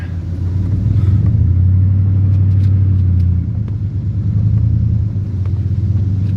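A vehicle backs up slowly toward a spot for unloading pea gravel, heard as a loud, close engine rumble that swells and eases as it creeps closer.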